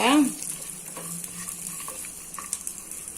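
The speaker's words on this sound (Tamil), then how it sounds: "நம்மளுக்கு பட்டர் நல்லா உருகி எடுத்து முந்திரி, பாதாம், பிஸ்தா இதெல்லாம் நல்லா வறுத்துக்கலாம்" Cashews, almonds and pistachios sizzle in melted butter for carrot halwa, a soft steady frying hiss with a brief louder stir at the start, close and alone.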